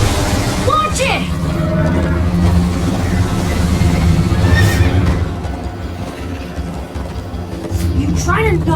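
Horse neighing and galloping in the video game Minecraft: Story Mode, with whinnies rising over steady hoofbeats and game rumble while voices talk throughout.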